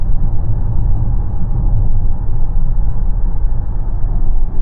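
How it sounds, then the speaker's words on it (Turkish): Steady, loud low rumble of wind and road noise inside a moving 2025 Volvo XC90 T8 plug-in hybrid, continuous and unbroken throughout. "Bu arada bu rüzgar sesi geliyor."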